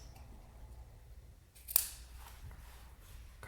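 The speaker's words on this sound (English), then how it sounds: "I think I'm definitely gonna cut the ends" Scissors snip once through the end of a handmade card, a single short crisp cut near and alone in an otherwise quiet room.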